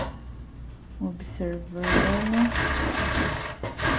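A sewing machine stitches swimsuit lining in a short, loud burst after someone speaks briefly. The motor buzzes steadily close by.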